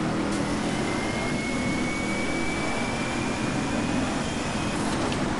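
Wombat Typhoon supercar engine in DriveClub, a steady loud roaring whine that holds throughout with a faint rising tone as the gears shift, no talk.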